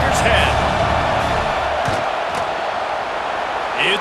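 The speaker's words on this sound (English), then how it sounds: "This crowd trying to do its part to get inside the kicker's head." Stadium crowd roaring steadily before a field goal attempt in EA College Football 26, a dense continuous wash of cheering and noise holding at a loud level throughout, with a few brief shouts rising out of it.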